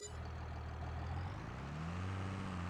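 A tractor engine idles steadily in Farming Simulator 22, a low constant rumble with a hum that rises slightly in pitch toward the end, close and alone with no talking.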